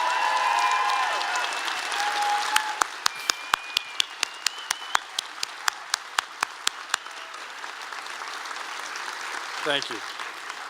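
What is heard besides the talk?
audience applauding the faculty at commencement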